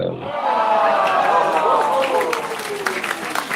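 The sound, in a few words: cheering and clapping sound effect in Canva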